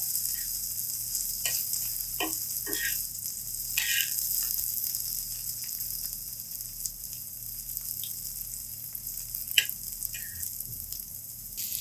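Okra frying in oil on a chapati griddle gives a soft, continuous close sizzle with occasional spatula scrapes and stirring clicks, and no voices.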